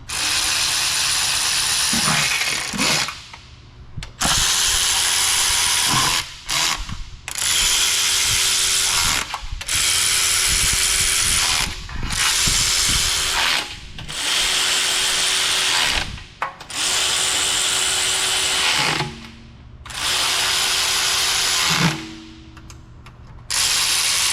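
A ratchet wrench tightens transmission pan bolts on a 48RE valve body. Bursts of rapid clicking ratcheting repeat close by, broken by short pauses between strokes, with no talking.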